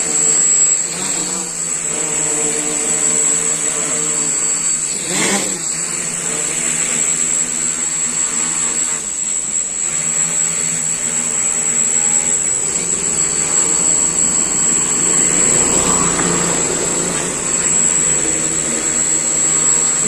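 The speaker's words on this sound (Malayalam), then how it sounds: "ഈ ഡ്രോൺ ഇപ്പൊ GPS വെച്ച പൊസിഷൻ അറിയാം." A homemade GPS-equipped drone hovers in place nearby, its propellers giving a steady, loud, high-pitched whine that holds constant throughout without any talking.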